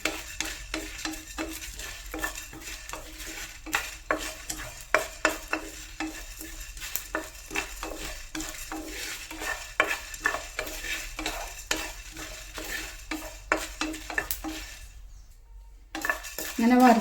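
Coriander, chili and cumin roast in a pan for beef varattu, with a stirring utensil scraping and clinking in a steady rhythm over a light sizzle before a short pause near the end.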